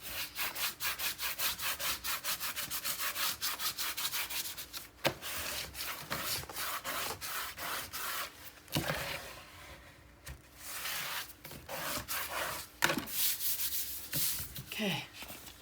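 Paper is burnished by hand while a 9 x 9 mini album is assembled, a close, steady rubbing and scraping with rapid back-and-forth strokes and occasional firmer swipes.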